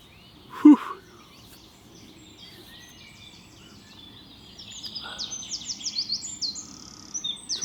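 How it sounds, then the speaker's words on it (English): Songbirds chirp and tweet outdoors at a carp fishing lake, faint at first, with one brief louder thump near the start, then a livelier run of repeated tweets in the last few seconds. "The birds tweeting away."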